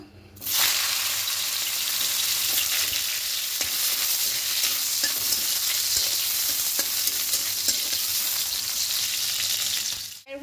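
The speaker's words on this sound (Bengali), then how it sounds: "এবার এখানে আরও কিছুটা তেল দিয়ে দেব। করলাগুলোকে ভেজে নেব।" Bitter gourd pieces fry in hot oil in a pan for a Bengali dudh shukto, giving a continuous close sizzle with occasional stirring scrapes that runs steadily from start to finish.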